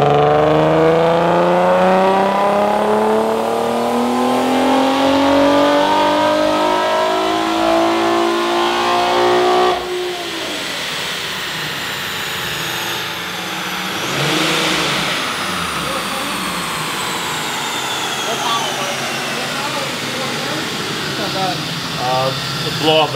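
A supercharged Infiniti Q50 3.7L engine screams through a rising rev sweep on a dyno, pitch climbing steadily before abruptly dropping off as a blow-off valve opens, then droning and whooshing at lower revs as it winds down, loud and close.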